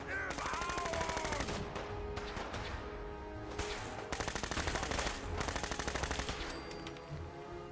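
Laser rifle gunfire in the video game Fallout 4, rapid bursts of sharp repeated shots in several volleys amid other combat noise, moderately loud.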